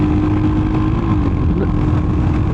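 A Royal Enfield Hunter 350 motorcycle accelerates hard on an open road, its engine note rising steadily through a gear, loud and close with wind rush and no talk.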